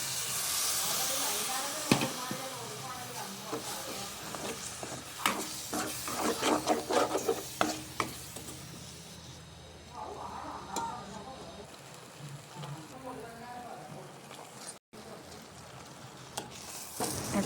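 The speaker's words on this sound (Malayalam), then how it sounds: "ഇതിലോട്ട് കഴുകി വെച്ചിരിക്കുന്ന ചിക്കൻ ഇട്ട് കൊടുക്കുന്നുണ്ട്" Washed chicken pieces tipped into a pan of simmering gravy for a Ramadan chicken curry, giving a steady sizzling hiss with scattered clicks and stirring scrapes and a louder burst of frying noise partway through.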